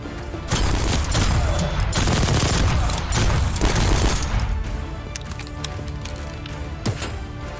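Gunfire from a weapon in the game Voidtrain, fought against heavily armored enemies: rapid, loud bursts of shots crowd the first few seconds, then thin out into scattered single reports against a busy game backdrop.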